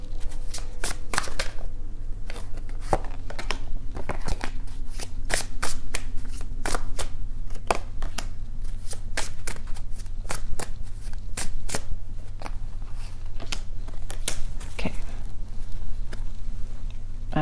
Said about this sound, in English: Please, angels, clarify Doreen Virtue Romance Angel cards. Give us 5 cards